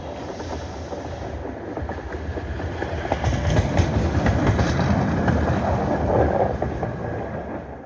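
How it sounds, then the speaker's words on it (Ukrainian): Tram rolling along its track through a pine forest in Pushcha-Vodytsia, a low rumble and clatter that builds up and stays loud as it passes close by. "Зараз побачимо трамвайчик."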